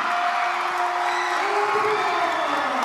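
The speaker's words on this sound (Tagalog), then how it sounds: "Crowd coming alive here." Crowd noise swells at an MPBL basketball game between Pangasinan and Abra, a steady, dense roar of cheering and whoops filling the arena with tonal squeaks and horns above it.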